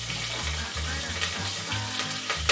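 Green chilies fry in hot oil for prawn fried rice, with a steady close sizzle and scattered crackles and pops throughout, and no talking.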